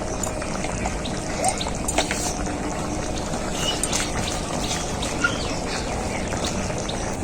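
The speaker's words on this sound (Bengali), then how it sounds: "ঝোলটা খুব ভালোভাবে ফুটে গেছে" Egg and eggplant curry gravy bubbling in a pot, a steady close simmering hiss with soft pops and gurgles continuing throughout, with no one speaking.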